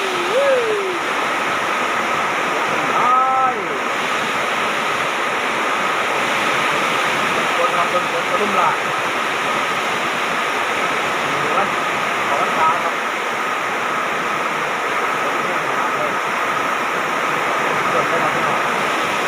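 Steady, dense roar of heavy, windy rain pouring down on rice paddies without letup, close and loud, with brief human exclamations faintly mixed in.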